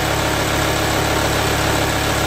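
A VW Touareg engine running after repairs, a steady, loud idle drone close by, even and unbroken with no talk over it.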